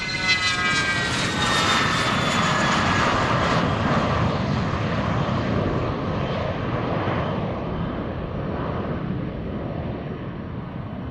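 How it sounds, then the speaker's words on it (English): An airplane at Boeing Field in Seattle roars loudly nearby with a high engine whine at first, then the broad rumble slowly fades as it moves off. No one speaks. "that plane is actually louder than the 777X by far"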